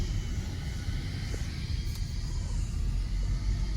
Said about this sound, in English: It's a U.S. Navy Blue Angel F-18 Hornet.